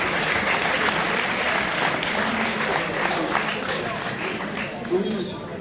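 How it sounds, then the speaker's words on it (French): Sustained audience applause fills the room at an engineering sciences olympiad final in Normandy, steady and dense for several seconds before tapering slightly near the end. "Donc on peut les applaudir."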